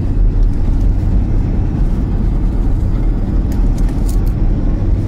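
Land Rover Discovery, about two and a half tons, towing a caravan uphill on the drive to the Cairngorm Mountains, a loud steady engine drone and road rumble heard from inside, with no clear break for the gear change.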